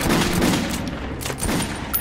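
Gunfire in the post-apocalyptic shooter game Metro 2033, a dense, steady spread of shots and blasts filling the whole moment at fairly close range, with no talking.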